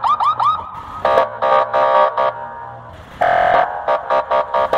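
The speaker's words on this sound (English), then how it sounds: "This is a Russian fire truck." A Russian fire truck siren sounds loud and close: a few rapid rising yelps, then a series of steady, pulsing electronic tones repeating in short bursts with brief gaps.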